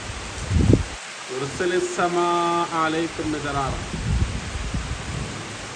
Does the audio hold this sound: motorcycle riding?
no